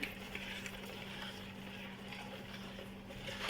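Chicken tocino ingredients in oil being stirred in a pan, a soft continuous scraping and faint sizzle at low level with a steady background hum, no voices.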